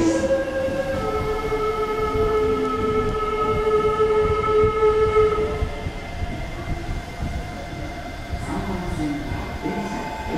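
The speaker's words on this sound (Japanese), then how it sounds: "名古屋行き特急です。" A Meitetsu 1230 series limited express bound for Nagoya pulls into Kanayama Station, close and loud: steady wheel rumble under sustained whining tones that fade after about six seconds, leaving a rougher clattering roll as it slows.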